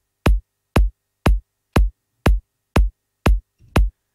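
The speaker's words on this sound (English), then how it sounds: "a kick playing 8 times" A programmed MIDI kick drum strikes eight times in a steady, evenly spaced pattern, each hit punchy and deep with a short decay, loud and alone with silence between beats.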